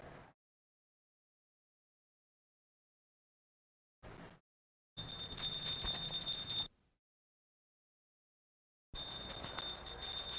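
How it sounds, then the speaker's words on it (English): A hand bell rung during an arati lamp offering before a guru, sounding in short bright bursts with sustained high ringing tones, separated by silent pauses. "please ring the bell as you do so"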